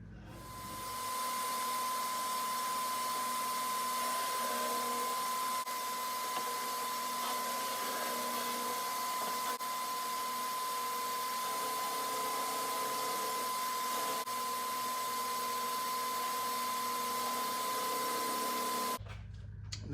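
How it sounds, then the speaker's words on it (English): An inverted drum sander flattens a wooden cajon shell with a steady, loud whine that holds evenly for about eighteen seconds with no talk, then cuts off abruptly. "I'm going to use an inverted drum sander to flatten this out."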